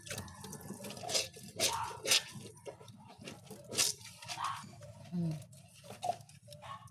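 Tap water runs and splashes while dishes are washed by hand at home, with scattered clinks, drips and rustles over a steady wet hiss, close and moderately loud.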